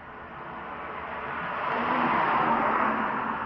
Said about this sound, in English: Oh, come on, cars go by.